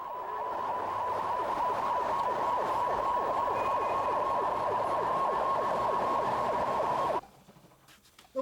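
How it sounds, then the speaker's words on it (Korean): Wailing emergency sirens from a convoy of fire engines, rescue trucks and an ambulance heading to a fire, a loud steady tone with rapid warble that cuts off abruptly near the end. "지휘차를 선두로 구조차, 구급차, 그리고 펌프차, 탱크차가 화재 현장으로 향했습니다."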